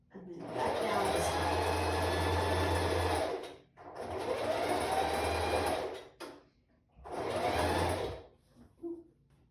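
A sewing machine stitching boning into a strapless bra, running loud and steady in three bursts with brief pauses between, close up and with no talking.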